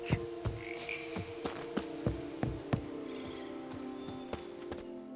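Horse hooves clip-clop steadily in The Witcher 3, about two beats per second at a moderate distance, over a low ambient hum, slowing and fading toward the end.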